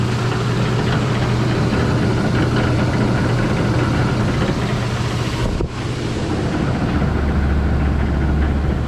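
An antique wheel balancer whirs continuously as it spins at high speed, a loud, close, steady mechanical drone whose tone shifts and deepens briefly as it settles into its running speed.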